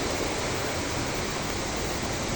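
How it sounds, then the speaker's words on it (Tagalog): Spring water near a waterfall at Palawan falls pours in a dense, constant rush that fills the whole clip, loud and close with no break and no voices. "Ayan, may bukal po dito."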